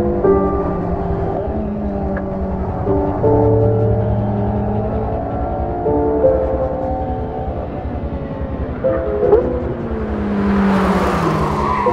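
A 2015 Porsche 918 Spyder driven hard in hot lap mode, its engine droning loud and close with tones that climb and shift through gear changes, ending in a brief rushing swell.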